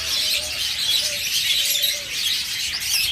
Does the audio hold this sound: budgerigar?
yes